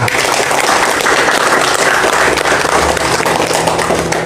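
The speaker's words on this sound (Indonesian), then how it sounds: "Tepuk tangan untuk Maha Guru kita." A crowd applauds steadily and loudly, a dense wash of clapping with no talk over it.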